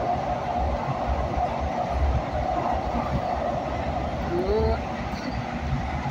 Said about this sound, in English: I'm on this beautiful train